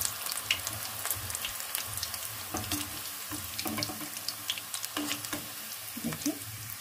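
Peanuts coated in besan batter fry in hot oil in a kadhai, giving a steady bubbling sizzle with scattered spits and a few watery bursts, heard close with no talking.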